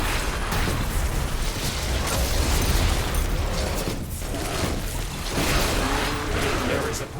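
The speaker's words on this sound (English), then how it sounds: "Here to make sure our insane amount of artillery is doing its job." Artillery fires and shells explode in The Riftbreaker, a dense, loud barrage of booms and mechanical clatter with bursts and pops, blended with some speech.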